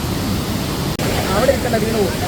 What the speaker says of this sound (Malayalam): വീണ് പോകുമ്പോൾ നല്ല പവർ ഉണ്ട് വെള്ളത്തിന്. നല്ല ഒഴുക്കുണ്ട് അവിടെ.